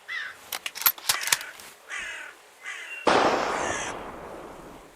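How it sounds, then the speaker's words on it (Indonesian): Caws from a bird overhead, targeted in a shooting trial, come as a few sharp repeated calls, followed by a loud burst of noise like a shot or firecracker that fades away. "Targetku burung yang ada di atas sana."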